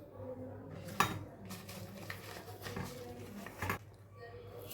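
Banana pieces dropped into a mixer jar, with a close clatter of soft thuds and light clinks against the jar over a couple of seconds, then quiet.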